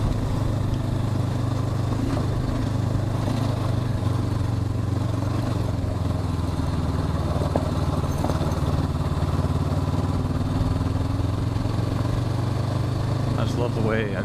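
A 2021 Honda CB500X engine lugs in fourth gear at low revs, with a steady, low rumbling drone and wind noise on a ride, while the rider talks over it.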